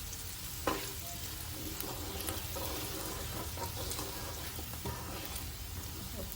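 Dry prawns and gongura curry stirred in a hot pan, with a steady sizzle of frying and scraping spoon strokes throughout, close and continuous with no talking.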